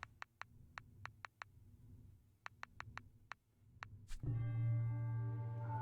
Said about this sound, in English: let's go ahead and echo bell